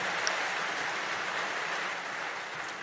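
An audience at the Berkshire Hathaway shareholder meeting claps, a dense, even wash of many hands that stays fairly faint and distant across the whole stretch, with no talk.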